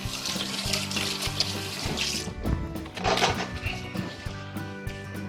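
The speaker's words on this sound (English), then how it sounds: "Let me just wash my hands quickly." Tap water runs into a kitchen sink while hands are washed, a close continuous splashing flow with uneven surges and no speech.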